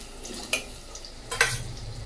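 Quiet frying sizzle of potatoes added to a spice tempering in a pan, with a couple of brief stirring scrapes and clinks standing out over the steady hiss.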